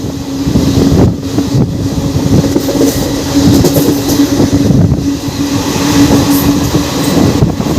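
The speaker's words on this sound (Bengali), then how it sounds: "আমাদের ট্রেন ছেড়ে দিল বাগনান" A passenger train with ICF coaches pulls out of Bagnan station, heard from on board as a loud, continuous rumble of wheels and carriage noise with faint rhythmic clatter throughout.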